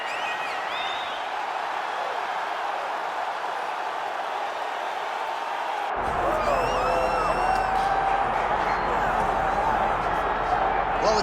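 A capacity arena crowd at a UFC fight murmurs and roars continuously under a commentator's voice, swelling noticeably louder partway through.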